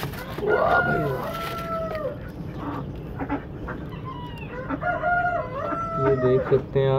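Polish-breed hens sitting on eggs on a rooftop poultry farm cluck and call in a busy mix of close, repeated squawks and longer crowing-like notes, with other birds chiming in.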